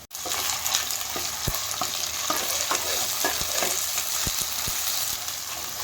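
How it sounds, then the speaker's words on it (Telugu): Ginger garlic paste sizzles steadily with fried onions in a pan for chicken curry, a close, even frying hiss broken by several sharp spoon knocks and scrapes while stirring, with no talking. "జింజర్ గార్లిక్ పేస్ట్ ఫ్రై అయిపోయింది."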